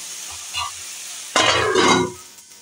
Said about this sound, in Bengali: এবার করলাটাকে আমি এইরকম করে ভাজবো আর একটু ঢাকনা চাপা দিয়ে দেবো।